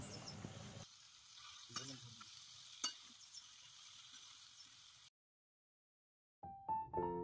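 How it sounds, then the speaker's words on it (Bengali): Onions frying in oil with five-spice seeds, dried chilli and bay leaf give a soft, steady sizzle for several seconds. It then cuts to silence, and a brief clatter follows at the end. "এরপরে সেই তেলেতেই 5 ফোড়ন, শুকনো লঙ্কা, তেজপাতা দিয়ে পেঁয়াজগুলোকে ভালো করে ভেজে নিতে হবে।"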